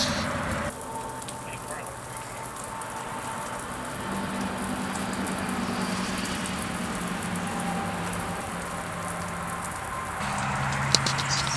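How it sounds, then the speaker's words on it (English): Artificial rain switched on for an indoor photo shoot, a steady, dense hiss of falling water pattering continuously at moderate volume, with a faint low hum underneath and a brief bump near the end. "I'm gonna turn on the rain and see what it looks like."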